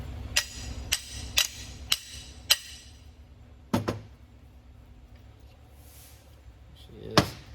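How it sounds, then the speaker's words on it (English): A hammer taps a socket out of a Cobra IRS control arm: five sharp metallic strikes in a quick, even rhythm, a pause, a double knock, then one more hit after a quiet stretch. "probably gonna have to tap the socket back out of there"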